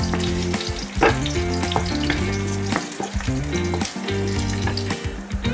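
Chicken curry frying with bay leaves in a pan, a constant loud sizzle under background music.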